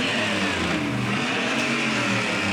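Shriners parade cars at a Halloween street event rev their engines in a continuous loud roar, close by and dense, with no speech.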